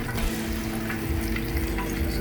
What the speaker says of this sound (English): Oil spits when you cook stuff.